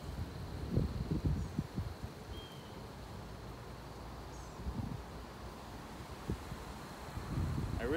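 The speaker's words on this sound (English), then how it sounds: "And of course it's windy," Low, gusty wind buffets the microphone in uneven rumbles during outdoor spring beekeeping, with rustling leaves and a faint bird call in the background.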